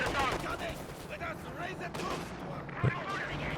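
Battlefield fire from Company of Heroes 2 on the El Dorado map, with mortar and sniper shots thumping and cracking at a distance beneath steady commentary from a voice.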